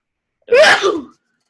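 A single loud, close sneeze, a sharp burst lasting about half a second, alone against silence.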